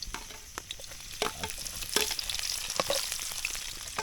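Ginger and garlic sizzle in a wok while being stirred, with steady frying hiss and scraping stirs throughout.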